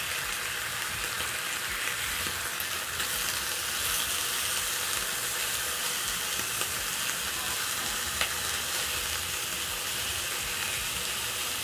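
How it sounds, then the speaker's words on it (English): Bacon strips fry in a pan as they crisp, giving a steady, dense sizzle with fine crackling throughout, close and even in level, with no voices. "I'm going to wait for my bacon to crispen up a little bit"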